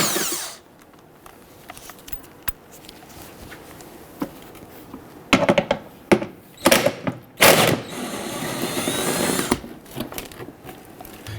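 A power tool zips out splash guard bolts on the underside of a 2011-2021 Jeep Grand Cherokee 3.6L V6, several sharp whirring bursts in quick succession after a quieter stretch, with a steady background hum.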